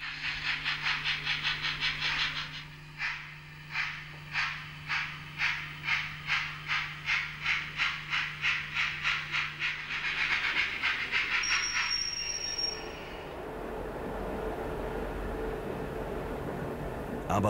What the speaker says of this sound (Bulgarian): Неговото фирмено стандартно дигитално оборудване предлага оригиналният звук на този локомотив стандарт Х0,